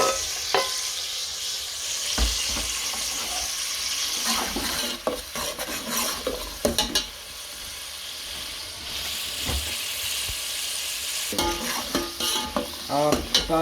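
Green chillies tossed into a hot frying pan for a cauliflower and potato pulao, with sizzling oil and a spoon scraping and stirring in bursts, clattering against the pan.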